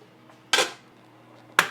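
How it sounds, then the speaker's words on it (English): A large metal stock pot is picked up and set down in a home kitchen, giving two sharp clanks about a second apart in an otherwise quiet room. "Now we're gonna grab a large stock pot."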